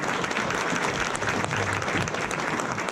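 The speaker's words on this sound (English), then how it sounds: "let's give them a round of applause" A crowd at a Mardi Gras fundraiser claps in continuous, thick applause that holds an even level for three seconds, near and full, with no voices rising above it.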